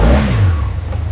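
A 2021 SYM Maxsym TL 500 scooter with a 500cc engine revs up close, a loud rising-then-settling engine roar lasting about a second.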